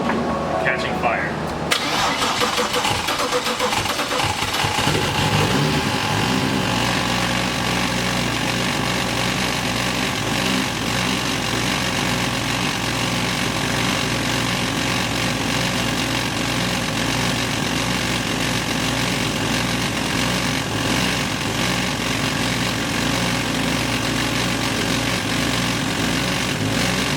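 A turbocharged S52 engine in a BMW E30 cranks and fires for its first start, then settles into a loud, steady idle, with people talking over the running engine.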